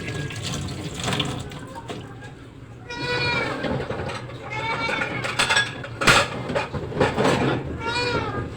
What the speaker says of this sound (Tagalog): Ang ingay ng aking pusa guys.